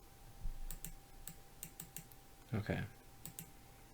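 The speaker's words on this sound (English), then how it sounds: "Stop clicking around." Sharp, light clicks and taps from a computer mouse and keyboard while working in Blender, scattered in an irregular rhythm, close and fairly quiet, with a brief spoken word in the middle.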